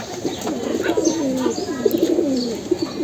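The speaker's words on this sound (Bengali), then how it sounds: "এই যে এটাও একটা ছোট তুতা শেপের একটা কবুতর" A small Jack pigeon coos repeatedly in rolling, warbling phrases, close and fairly loud, with faint chirps in the background.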